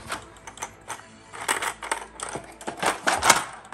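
Plastic board game coins and pieces from a 1990s game clatter and clink in a rapid, irregular series of close, sharp taps, handled nearby with no talking.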